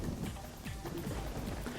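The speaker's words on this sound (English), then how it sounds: "the rain's kind of decently done. And you actually have the splashing effects when you're running around" Steady rain in the video game BLiNX 2: Masters of Time and Space, a continuous hiss with splashing effects while a character runs around, with faint tonal game sounds mixed underneath.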